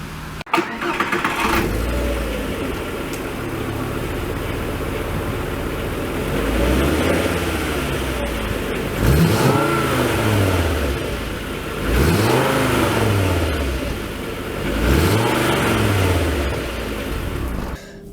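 A 2001 Volkswagen Jetta with a VR5 engine starts with a quick crank, then settles into a steady idle. Several rising and falling revs follow, loud and close, with no voices.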